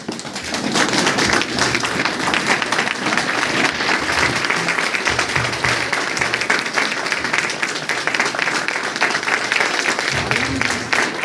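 An audience at a DXN meeting program in Basti applauds as a guest is invited onto the stage, sustained loud crowd clapping running continuously throughout.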